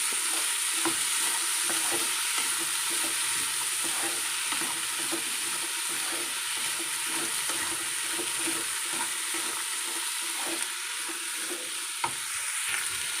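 Ivy gourd fries in a pan with an even, sustained sizzling hiss and faint rhythmic stirring, steady and close for the whole stretch.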